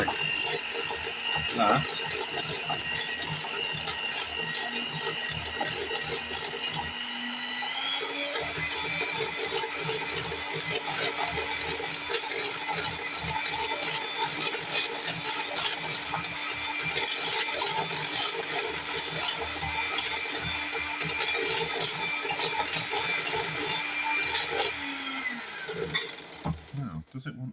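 An electric mixer runs on its lowest setting folding ingredients into a semifreddo, a steady mechanical whir with a rattling, ratchet-like texture that shifts pitch partway through and stops near the end, with a brief spoken word.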